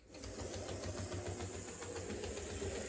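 An HO scale model locomotive that has sat unused for a long while runs in reverse, giving a steady close mechanical whir with a rapid pulsing motor-and-gear rhythm that stays constant throughout.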